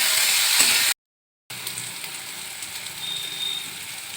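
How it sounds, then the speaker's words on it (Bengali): Chopped onion and tomato sizzle and fry in a pan with a steady, close crackle, briefly cut out by a short silent gap, then continuing evenly. "এবার পেঁয়াজ কুচি দিলাম আর টমেটো কুচি দিচ্ছি। একটু ভেজে নিচ্ছি এটা।"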